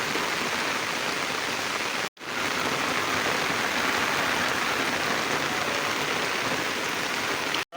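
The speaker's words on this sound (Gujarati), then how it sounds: "વરસાદ મિત્રો વધતો જાય છે" Heavy monsoon downpour pours over open ground while runoff water rushes across the land, a dense, loud, continuous roar of rain and flow with one brief break partway through, no voices present.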